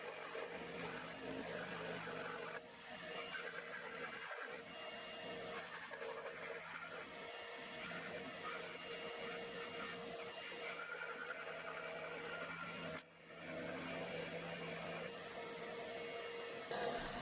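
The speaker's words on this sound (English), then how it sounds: "after I'd finished cutting everything out on the scroll saw" A scroll saw cutting out wooden pieces gives a faint, continuous buzzing rasp with slight shifts in tone and a couple of short dips where the blade eases off.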